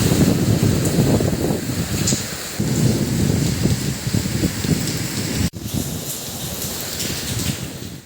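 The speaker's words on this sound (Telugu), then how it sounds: "కోనసీమ జిల్లాలో ఉరుములు మెరుపులతో భారీ వర్షం కురిసింది." Heavy, untimely rain pours steadily with rumbling thunder in Konaseema district, a dense roar with a brief dip partway through, and no voices.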